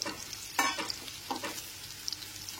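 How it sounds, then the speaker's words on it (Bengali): Potato and cauliflower pieces fry in a pan with a soft sizzle, broken by a few distinct scraping stir strokes from a spatula, close and fairly quiet. "আলু আর ফুলকপিটাকে খুব ভালো মতো একবার নেড়ে নিচ্ছি"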